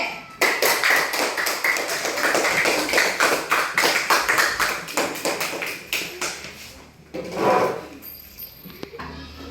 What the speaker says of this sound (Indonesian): kasih dulu aplaus untuk kelompok B